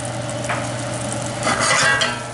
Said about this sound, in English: We're going to take our chopped shallots, put them in the pan